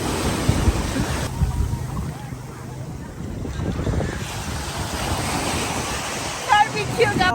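Waves washing onto a Puerto Rico beach under heavy wind buffeting the microphone, a steady broadband roar with a few louder gusts and splashes near the end.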